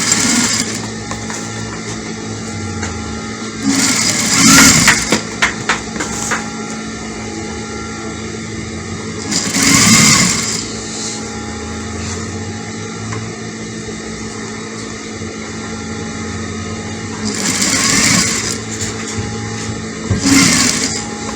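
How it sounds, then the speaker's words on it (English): Sewing machine stitching peplum dress fabric, a steady close mechanical hum with rhythmic whirring, rising in louder bursts around five, ten and eighteen seconds as the motor speeds up. "So we're gonna stitch it all around."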